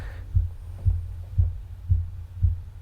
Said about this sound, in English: Yes, that's your heartbeat.